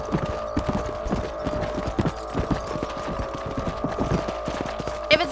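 Horses ridden across a ranch property in Red Dead Redemption, a steady clip-clop of hooves plodding along in an uneven rhythm over a low hum, with no voices.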